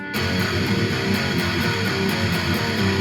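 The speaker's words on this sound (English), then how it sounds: "No palm mute would sound like this." Dense, sustained electric guitar riffing with open, ringing picked notes, steady and loud throughout with no pauses or voices.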